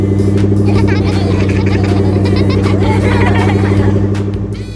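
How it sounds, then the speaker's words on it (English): A cartoon bus drives along a road with a steady, low engine drone, loud and continuous, and a voice talks over it throughout. "The bus is happily rolling along the road."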